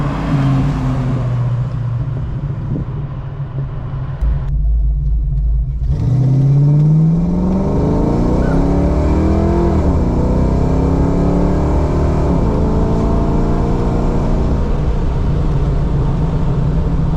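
Ford Fox body with a GT40 top-end kit and E303 cam, idling with a lumpy rumble before revving up, the engine pitch climbing and falling through several loud, close sweeps without talk.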